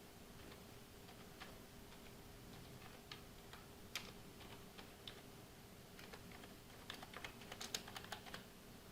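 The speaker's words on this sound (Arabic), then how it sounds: "هنكتب فيه الباسورد اللي احنا عاوزين نغيره." Light, fast keystrokes on a computer keyboard as a Wi-Fi password is typed, quiet close clicks in irregular bursts that cluster more densely toward the end, with no talking.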